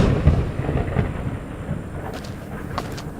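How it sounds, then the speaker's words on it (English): Thunder rumbles low and heavy amid rain on a dark night outside a motel, a deep rolling boom that swells and fades over a few seconds, with lighter crackling on top. "Thunder booms as Edward disappears into the dark motel lobby."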